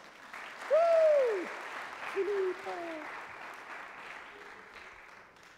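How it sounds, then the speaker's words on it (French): Audience applause at a church gathering, a soft, diffuse spread of clapping that rises as a man calls out a name, then slowly fades under his voice. "On peut l'applaudir."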